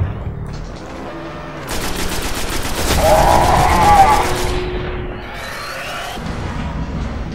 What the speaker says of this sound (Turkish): Roket attım abi, herife bir şey olmadı oraya